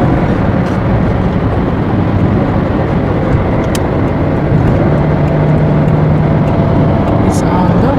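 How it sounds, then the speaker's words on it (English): Dense, steady roar of car traffic heard from inside a moving vehicle on an evening weekend drive toward a bridge, a continuous loud rumble with engine and road noise and no distinct pass-bys. "See, guys, it's lots of cars."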